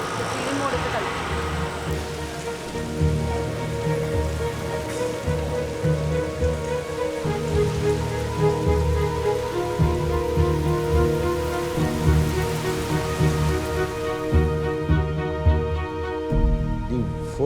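Morning rain in Mumbai pours steadily onto surfaces, a dense, close hiss of drops that continues throughout, with a voice at times and a faint hum of traffic.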